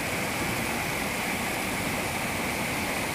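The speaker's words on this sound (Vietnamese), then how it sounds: "Nước suối sạch mát này không tắm à?" A clean, cool mountain stream rushes steadily, a loud close broadband wash of flowing water with no break and no voices.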